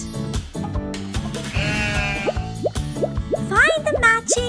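A sheep bleats in a wavering cry near the end, set against a bouncy children's nursery-song melody with a voice speaking over the music.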